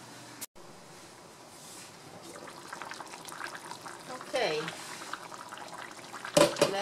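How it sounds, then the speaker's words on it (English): Puerto Rican pollo guisado, a chicken stew, simmers under a lid on medium-low heat with soft, low bubbling that builds slightly, and there is a brief clatter near the end. "we're going to put a lid on it and allow it to simmer on a medium-low heat temperature."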